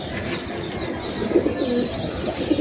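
Pet pigeons coo softly among domestic birds, with several low, rounded calls rising above a steady background hiss in the second half.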